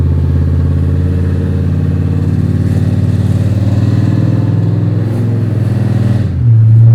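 A cammed Chevy Silverado shop truck, low on transmission fluid after a new transmission and rear end were fitted, rumbles loudly up close with a lopey idle as it shifts through the gears, ending with a deeper tone change.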